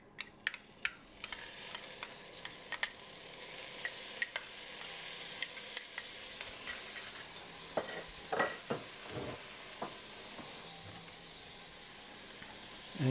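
Sofrito and bits of pork stirred in hot oil in a pan for Puerto Rican stewed pink beans, a steady close sizzle broken by scattered sharp scrapes and clicks of the spoon.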